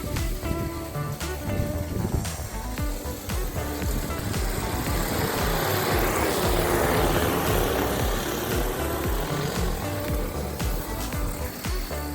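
Agricultural drone flying overhead while spreading cover crop seed, a loud, continuous propeller whine and buzz that swells as it passes close, with steady broadband rotor noise throughout.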